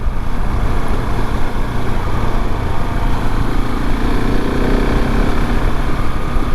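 A KTM 690 Enduro R motorcycle rides along a gravel country lane, giving a constant loud drone of engine and rolling noise with no pauses or talking.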